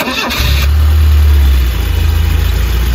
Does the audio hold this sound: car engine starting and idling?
yes